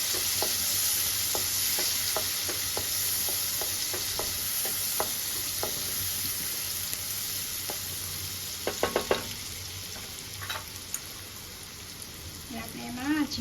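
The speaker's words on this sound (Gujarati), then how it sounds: "આપણે એને હલાવીશું।" An onion fries in a pan with a steady sizzle while a spoon stirs it, giving a run of light, regular scraping taps and a few louder clatters near the end.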